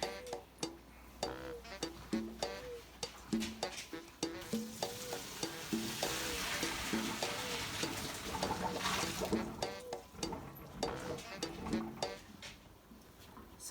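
Cheese is stirred into pasta sauce in a pan, giving soft bubbling sizzle under repeated scraping and clicking strokes in an uneven rhythm, close and fairly quiet, with a denser sizzling stretch in the middle.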